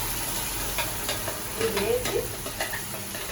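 Tomato pachadi being stirred in a hot pan after chutney is added, with scraping spoon strokes over a continuous low sizzle and a few brief spoken words near the start.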